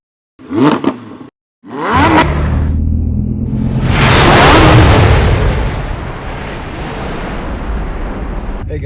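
K3500 diesel truck with a new 4-inch exhaust, a couple of short bursts followed by a loud, deep roaring acceleration that swells and then holds as a heavy rumble.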